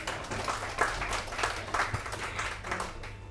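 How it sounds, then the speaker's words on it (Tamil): Applause from a crowd, moderate and steady, with many hands clapping at a distance for a few seconds. "அவருக்கு ஒரு கரகோஷம்."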